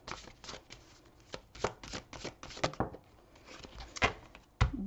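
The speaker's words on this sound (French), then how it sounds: "Je vais prendre une carte oracle" A deck of oracle cards is handled and cut: quick, papery riffles and flicks come in uneven bursts, close and fairly soft, ending with a sharper snap as a card is drawn.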